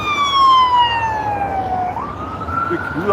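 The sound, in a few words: ambulance siren passing by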